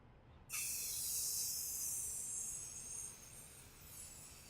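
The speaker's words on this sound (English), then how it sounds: "I'm gonna start spraying" A sudden hissing blast of an aerosol can spraying onto a print starts after a brief quiet moment, then sprays continuously and fairly loud, easing off slightly toward the end.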